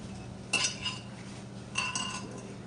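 Spoon stirring a cinnamon sugar and apple juice mixture in a bowl, two brief clinking scrapes against the dish separated by a quiet pause, fairly soft and close.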